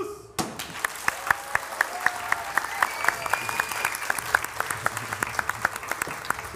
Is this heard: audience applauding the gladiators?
yes